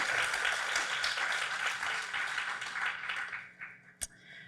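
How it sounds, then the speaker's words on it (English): An audience at a live storytelling event applauds in a dense burst of clapping that fades out after a few seconds, ending with one sharp tap. "Another round of applause for Doug."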